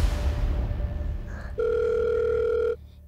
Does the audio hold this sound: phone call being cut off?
yes